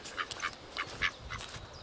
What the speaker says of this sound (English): There's another duck.